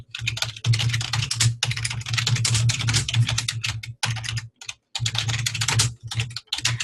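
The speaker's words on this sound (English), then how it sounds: "And so let me just retype that out." Steady typing on a computer keyboard, close and clear, with rapid key clicks in bursts separated by short pauses, alone without talk.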